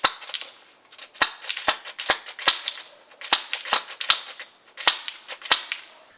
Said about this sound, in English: So I'm going to shoot this one a bit shorter and pretend to pump it.